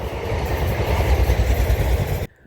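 Train rumbling past at close range along the Thames Estuary near Canvey Island, a steady loud roar with low rattling wheel noise that ends abruptly.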